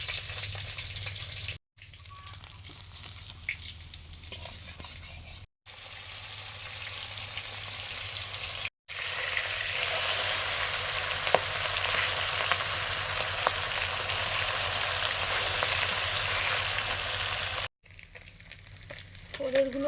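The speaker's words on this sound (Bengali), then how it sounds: "পাবদা মাছগুলো প্রথমবারেগুলো ভাজা হয়ে গেছে," Large pabda fish fry in mustard oil with a steady, loud sizzle that continues for several seconds, broken by a few abrupt cuts, with no talking.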